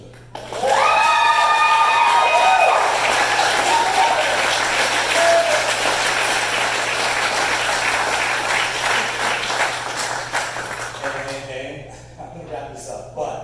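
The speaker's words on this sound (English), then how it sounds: "I want everyone to cheer for that" A crowd cheers and applauds loudly and steadily for about ten seconds, with whoops over the clapping, then fades into a speaking voice near the end.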